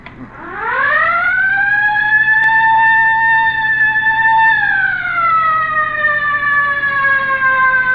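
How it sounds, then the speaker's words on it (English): A loud, close police car siren in a radio drama wails, rises and holds a steady tone, then dips slightly and continues, with no talking over it. "All right, hit the siren."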